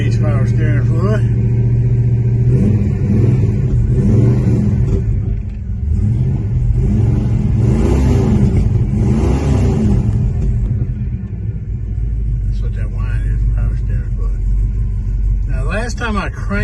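An old car engine runs with a loud, steady low rumble and revs up and down several times, heard close up, while someone talks over it.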